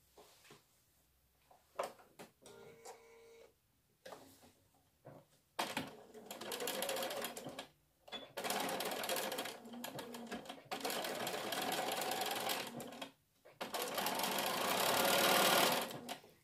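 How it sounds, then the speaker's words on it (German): A domestic sewing machine stitches fabric pieces for Dresden Plate patchwork, running forward and in reverse. Short bursts start and stop at first, then longer steady whirring runs follow, close and clear with pauses between them. "Und ich beginne hier mit Nähen."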